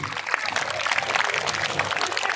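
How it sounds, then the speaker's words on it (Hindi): An audience applauding at an annual function, a dense, steady wash of clapping from a crowd for a couple of seconds with voices mixed in. "तालियां बजाते रहें भी।"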